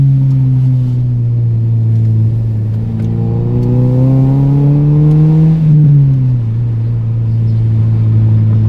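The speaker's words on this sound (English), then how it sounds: "This car gets some real nice pops." A car engine drones steadily nearby in a small village, revving up and settling back down, with its exhaust crackling faintly as the revs drop.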